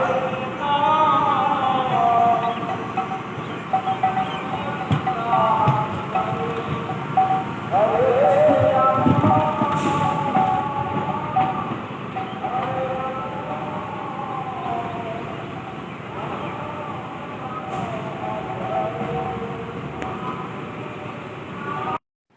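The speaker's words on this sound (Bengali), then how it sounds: "কালিনারায়ণপুর জংশনে শান্তিপুরের প্ল্যাটফর্মের দিকে ট্রেনটি এবার দাঁড়াচ্ছে" A passenger train pulls into Kalinarayanpur Junction, a loud, steady rumble of wheels and carriages with drawn-out squealing tones riding over it, easing slightly toward the end.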